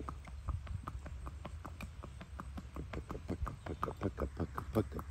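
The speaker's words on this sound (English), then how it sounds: "that kid riding bareback going down a road" Hooves of a horse ridden bareback clip-clop at a steady, brisk walk along a road, the regular beats close and fairly loud against a low rumbling background.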